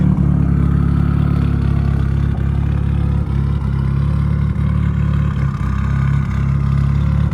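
A Nissan Silvia engine, in need of a tune, idles steadily with a deep, rumbling low throb and a slightly uneven, lopey pulse, loud and close, with no one talking.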